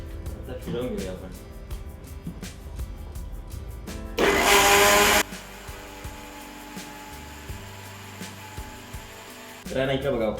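A kitchen mixer whirs loudly for about a second while grinding coconut, chillies, ginger and garlic with water, between stretches of talking that come before and after it.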